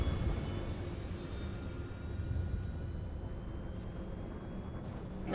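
Star Citizen spaceship engines after takeoff produce a steady, moderately loud rumbling drone with faint whining tones, continuous and unchanging throughout.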